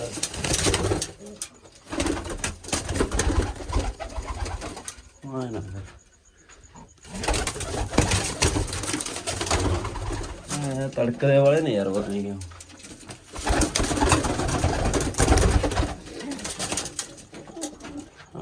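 Four pigeons coo in a few soft, throaty bursts between stretches of close talking and handling noises.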